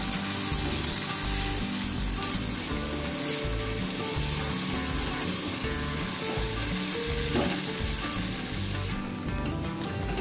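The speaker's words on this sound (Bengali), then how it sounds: "পেঁয়াজটাকে ভালো করে ভেজে নিতে হবে" Chopped onion fries in hot oil with a dense, continuous sizzle that stays loud and even throughout, with occasional stirring.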